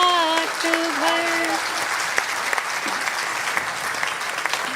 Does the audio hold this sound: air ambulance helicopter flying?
no